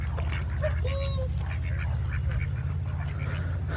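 Ducks quacking at a pond during feeding, a few short nasal quacks, fairly close, over a steady low droning background hum.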